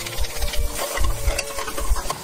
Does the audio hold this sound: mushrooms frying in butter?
yes